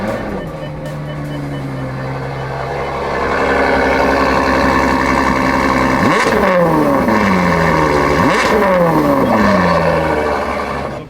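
A wrecked Porsche GT3 at a salvage yard, its engine running loud and close with a steady high idle before two sharp revs that climb and fall back around the six- and nine-second marks.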